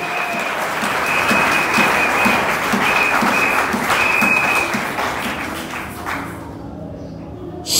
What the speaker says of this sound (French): Est-ce qu'il y a quelqu'un qui peut acclamer très fort le Seigneur avec moi?